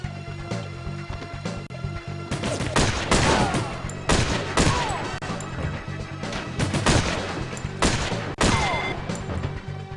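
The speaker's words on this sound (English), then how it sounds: "This is a sniper rifle, and it's pretty powerful." Rapid bursts of Deutsche SA-90 sniper rifle fire from The World is Not Enough video game, loud, sharp repeated cracks clustered in volleys over steady game background noise.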